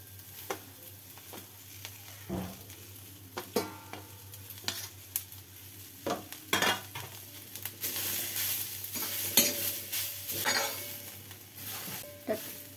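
Coconut roasts in a pan for a Malvani chicken dish, stirred with a spatula. Irregular scraping and knocking stirring strokes repeat over a soft frying hiss, fairly quiet, with no speech.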